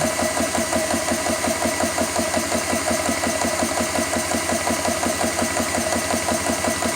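A Hill and GX CS3 high-pressure air compressor runs steadily while filling a bottle toward 3,000 psi, a loud, close, rapid mechanical chugging with even rhythmic pulses and a constant hum, alone without talk.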